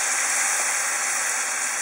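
Soy sauce hits hot potato mochi in a frying pan and raises a loud, steady sizzling hiss that holds constant throughout, with no talking.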